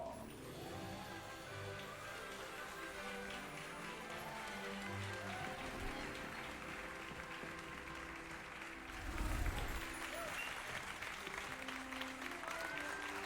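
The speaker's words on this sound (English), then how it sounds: "Claps all around, claps all around." Applause fills a hall in Hogwarts Legacy, a steady wash of clapping from many hands that swells louder near the end, with game music playing underneath.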